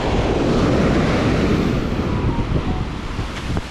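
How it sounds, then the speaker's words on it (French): Big ocean waves crash and wash at Plage du Tremblet on Réunion, a loud broad roar of surf with wind buffeting the microphone, the surge easing slightly toward the end. "Il y a des sacrées vagues, hein, ça donne envie d'aller s'y baigner."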